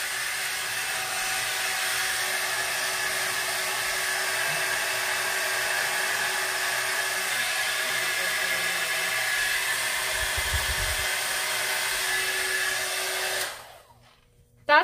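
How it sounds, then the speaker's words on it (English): A Conair Primrose 3-in-1 hair styler blows air with a steady, high-pitched whir, close to the mic. It stops abruptly near the end. "Then I can use that as a hair dryer."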